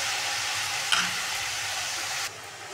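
Amaranth greens stirred in hot oil hiss in a steady close sizzle, with a brief stir around the first second before the sound drops quieter near the end.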